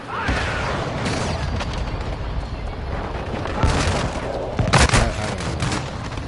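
Dense, continuous gunfire and booming blasts from a video game battle fill the mix loudly, with brief game voice lines mixed in.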